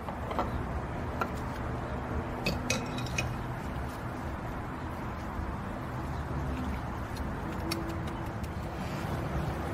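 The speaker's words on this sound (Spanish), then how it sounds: "Y vamos a mezclarlo." Chickpea cake batter being mixed in a bowl, steady close clinking and scraping of a utensil against the bowl in a continuous rhythm, with faint background noise.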